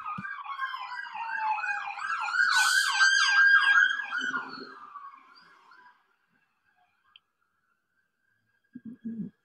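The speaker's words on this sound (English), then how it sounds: "I don't know if you heard the sirens go by" Fire sirens wail past a monastery, loud and rising then fading away over several seconds, followed by near silence with a few faint clicks.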